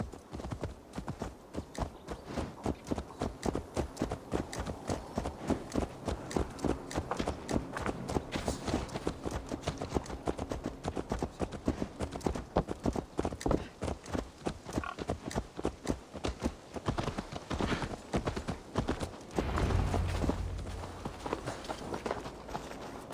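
Horse hooves clip-clop in the video game Assassin's Creed Valhalla, a steady, rhythmic trot that carries on for the whole stretch, loud and close with no talking.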